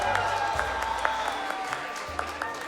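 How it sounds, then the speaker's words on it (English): Scattered applause from a small crowd at a Monster Hunter World: Iceborne championship, light and uneven, with a low hum and murmuring voices underneath. "Some applause."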